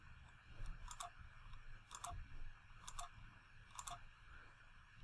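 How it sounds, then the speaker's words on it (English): Mouse clicks while digitizing a seahorse embroidery design in Hatch software, four light evenly spaced double clicks, close and quiet over a low room hum. "Keep using the right mouse click for curved points"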